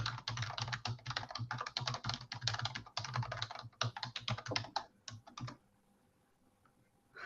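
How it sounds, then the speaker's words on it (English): Fast typing rattles a computer keyboard in dense bursts of key clicks for about five seconds, close and clear, then tapers off into quiet with a few final taps. "if I could type right"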